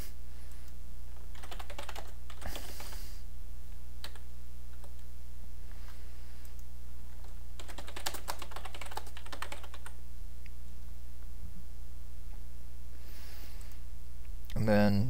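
Computer keyboard typing comes in several short bursts of quick clicking taps over a steady background hum, with faint talk around them.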